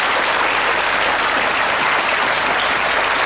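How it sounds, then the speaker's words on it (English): A television game show studio audience in 1986 gives a steady, full round of applause, dense, even clapping from many hands throughout with no talking. "Give them a nice round of applause."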